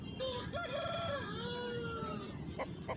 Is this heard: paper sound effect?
no